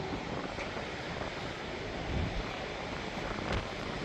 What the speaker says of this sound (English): It's a bit windy.